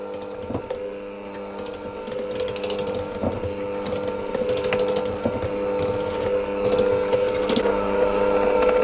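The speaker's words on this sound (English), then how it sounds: "I'm going to mix that until it starts to clump together. That's all, and I'm going to do that on a slow speed." A stand mixer works sugar cookie dough on slow speed, a steady motor hum with a rhythmic clicking and knocking as the dough tumbles, loud and close with no talking.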